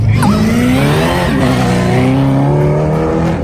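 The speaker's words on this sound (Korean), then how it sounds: "배기음도 장난 아니고 속도도 장난 아니네요" A race car at a Super Race motorsport event accelerates hard with a loud, raw exhaust note, the engine pitch climbing, dipping at a gear change, then climbing again in a close, continuous roar.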